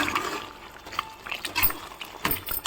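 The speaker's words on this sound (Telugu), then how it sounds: "ఇది మీకు గ్రేవీ ఇంకా కావాలంటే ఇప్పుడే కొంచెం వాటర్ వేసేసుకోవచ్చు" Water is added to a spicy chicken curry gravy in a kitchen, giving a brief, fairly faint splash and trickle with a few small clinks. No one speaks.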